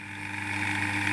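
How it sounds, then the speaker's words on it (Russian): Electric motor started through a contactor from push-button station one on a two-location control circuit, a steady humming whine that rises slightly as it runs, close and continuous with no talk. "Включаю двигатель с поста номер один."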